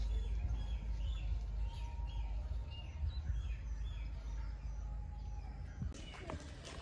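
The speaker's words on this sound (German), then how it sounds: "die Vögel singen" Birds chirping outdoors near a guesthouse in Entebbe, Uganda, faint scattered tweets over a low ambient background with a soft knock near the end.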